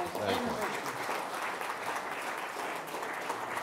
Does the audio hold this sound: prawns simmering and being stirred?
no